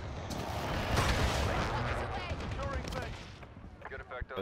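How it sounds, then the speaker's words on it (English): Dense, continuous rumbling blasts and gunfire from a Call of Duty: Modern Warfare airstrike on a market area, loud and sustained, with voices speaking over the barrage. "Airstrike at the market!"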